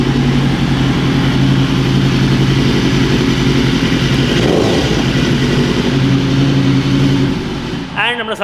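A superbike engine runs in a Kolkata bike showroom, a loud, steady mechanical drone with a rough pulsing idle that fades near the end as the engine is cut.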